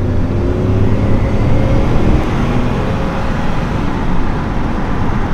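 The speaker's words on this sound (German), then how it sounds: "jetzt geben wir halt mal ein bisschen Gas" A Saab 9-4x pulls away and gathers speed on a 70 km/h road through Trollhättan, heard from inside as a loud, steady engine drone with rising tyre and road roar, no talking over it.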